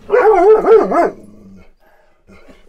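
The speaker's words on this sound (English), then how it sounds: "But at least one bark and that's sufficient." A dog gives a single loud, drawn-out bark with a wavering, howl-like pitch lasting about a second, close by, followed by near silence with a faint word at the end.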